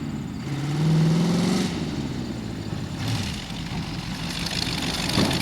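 Rat rod car engine heard from inside, rising in pitch under acceleration, then dropping as gears change, followed by a steady rumbling drone, moderately loud without talk.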